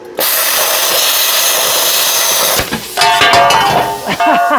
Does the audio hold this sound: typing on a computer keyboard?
no